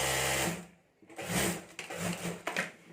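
A sewing machine stitches a zip onto a homemade clutch bag, running in a loud close burst, pausing briefly, then resuming in uneven stretches with no talking.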